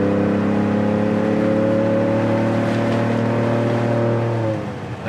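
Ford Bronco with an upgraded exhaust accelerating from 50 to 80 mph, a steady loud droning rumble with rising engine tone that holds, then eases off as the throttle lifts near the end.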